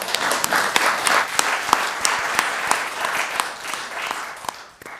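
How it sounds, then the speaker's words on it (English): A round of applause from an audience at a talk on lifelong learning, dense clapping with sharp individual claps standing out, steady and fairly loud for the whole stretch before tapering at the end. "I think that deserves a round of applause."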